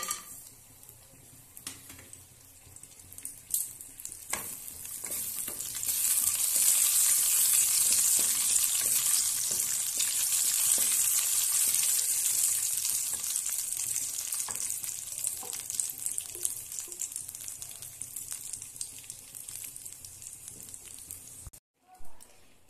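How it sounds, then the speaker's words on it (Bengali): Crackling sizzle of raisins and nuts frying in a wok swells and holds steady, with occasional stirring clinks against the pan. "এরপর এখানে আমি দিয়ে দেব কিশমিশ আর বাদামগুলি একটু ভেজে নেব"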